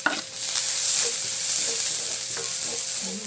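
Ginger and garlic sizzling in hot oil in a pan for shrimp adobo, a steady bright frying hiss with a few soft stirring scrapes and clicks, heard close with no talking.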